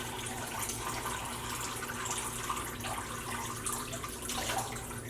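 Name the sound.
water draining from a basin after dyeing roving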